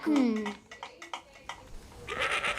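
A goat in the video game Elder Scrolls Online bleats once with a wavering, falling cry, followed by game sounds and faint talking.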